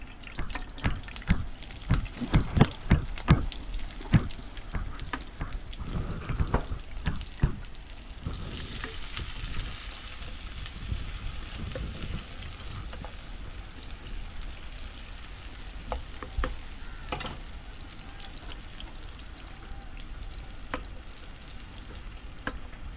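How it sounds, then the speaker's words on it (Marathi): Curry leaves and onion dropped into hot oil for an oyster dish cooked on a boat, giving a steady crackling sizzle with stirring scrapes and sharp clicks near the start, no talking. "आता सुरुवातीला आपण कढीपत्ता टाकणार आहोत त्याच्यानंतर कांदा"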